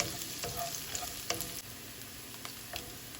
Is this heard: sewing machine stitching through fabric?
no